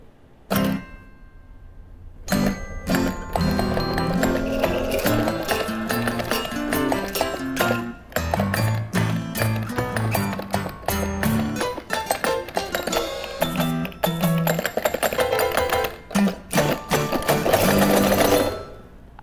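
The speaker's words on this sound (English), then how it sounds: "My latest invention in the category of oddly satisfying nightmare fuel, the teeth wall." A homemade teeth wall invention runs with a busy, clattering mechanical rhythm under a full band arrangement, dense and loud with only brief pauses throughout.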